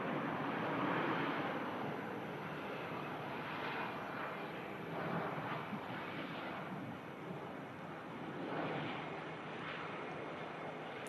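An Airbus A321 jet airliner fitted with sharklets arrives at Manchester Airport, heard as a distant, steady broadband engine roar that swells and fades slightly, mixed with wind rushing across the microphone.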